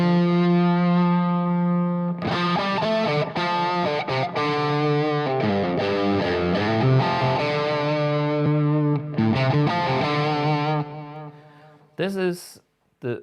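An electric guitar goes straight into an AMP1 Pure amp on its vintage channel with no Plexi Drive pedal, giving a loud, sustained, lightly driven chordal tone with ringing notes that cuts out near the end.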